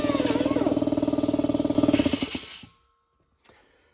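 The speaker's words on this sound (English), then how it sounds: "Looks like we're cutting and drilling, boys." A loud power tool chatters rapidly against metal while cutting and drilling out a broken bolt on a Yugo, pulsing steadily, then winds down and stops, followed by a brief clank.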